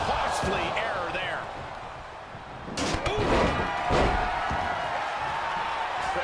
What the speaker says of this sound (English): Stomp after stomp after stomp.